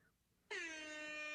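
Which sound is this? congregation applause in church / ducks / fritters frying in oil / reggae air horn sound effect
reggae air horn sound effect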